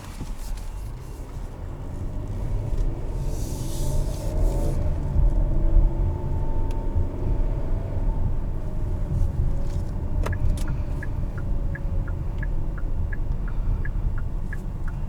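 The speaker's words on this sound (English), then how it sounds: "All right, let's go for a drive." Steady road rumble and engine hum from inside a 2020 Hyundai Palisade Limited while driving, continuous and fairly loud, with a few faint ticks and chirps late on.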